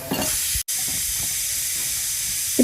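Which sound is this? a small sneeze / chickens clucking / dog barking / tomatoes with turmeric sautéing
tomatoes with turmeric sautéing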